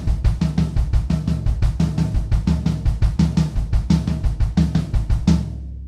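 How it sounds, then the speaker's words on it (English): A drum kit plays a fast fill of double strokes alternating between floor tom and bass drum, a dense even stream of punchy low hits that ends on a final accented stroke and cuts to silence. "This is just a little bit of a lick using doubles in the right hand on the floor tom and then doubles in the bass drum"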